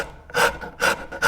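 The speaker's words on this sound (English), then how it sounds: "rather than sanding, I'm going to use a rasp and flip it upside down." A rasp filing into wooden notches on a bow tillering tree, three rhythmic, close, coarse scraping strokes.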